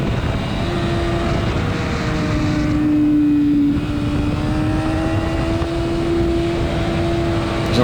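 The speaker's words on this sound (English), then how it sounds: "Good looking Ducati in front of me. Very good looking Ducati. I think it's a V4." A Ducati V4 motorcycle rides around the Hockenheim circuit during a public track session: a sustained engine drone with a slowly shifting tone, steady and moderately loud throughout, heard without talk over a constant rushing background.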